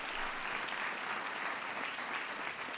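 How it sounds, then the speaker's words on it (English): Crowd applause at a ceremony honoring the 2015 NCAA women's basketball champion UConn Huskies, a steady, even roar of many clapping hands heard from a distance, with no voices. "Give him a big round of applause."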